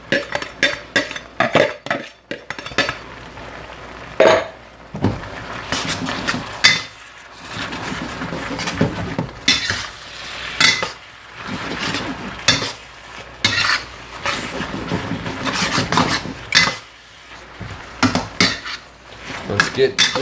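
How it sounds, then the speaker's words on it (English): Lo mein noodles get tossed through sauce in a pan with steady scraping and clattering of utensils against metal, a soft sizzle beneath, the bursts close and rhythmic with brief pauses. "Now in with our lo mein noodles."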